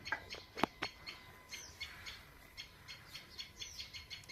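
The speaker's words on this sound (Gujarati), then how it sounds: "આ ચકલી બેઠી, આ ચકલી બોલે એનો અવાજ છે" A sparrow perched by its nest in a vine gives a string of short, faint chirps in a loose, repeating rhythm, with one sharper, louder call near the start, against a quiet background.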